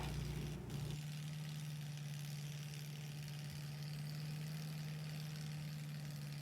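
Motorized tiller churning homestead ground in Nova Scotia, a steady droning engine hum with a strong low tone, fairly quiet and continuous after a brief louder start.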